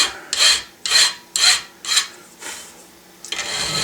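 A gunsmith's file rasps across a metal part while a drum is being installed: four loud, close, evenly spaced strokes, then a softer fifth and a fainter scraping tail.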